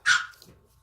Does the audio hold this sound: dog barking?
yes